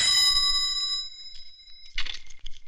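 A telephone rings in a domestic scene from a 1993 Bollywood action film, with one bright, ringing bell tone that fades, then a shorter burst of ringing after a brief pause.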